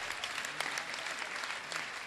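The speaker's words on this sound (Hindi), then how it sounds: "आप सबकी तालियां" Audience applause at a Jain religious discourse gathering, a steady wash of many hands clapping at moderate distance, fairly quiet and even for the short stretch.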